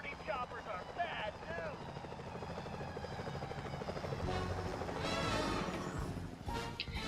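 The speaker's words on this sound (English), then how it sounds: "Careful, Sly, those security choppers are bad" Security helicopters in Sly Cooper: Thieves in Time whir with steady rotor chopping that grows louder midway, heard under voices talking throughout.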